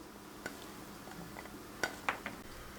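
Soft clinks and light scraping of a utensil against a bowl, a few sparse taps as chopped red and green peppers are mixed for a pide filling, quiet and close.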